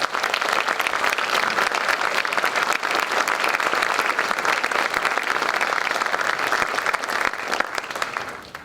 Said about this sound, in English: Let's give all of our seniors a round of applause.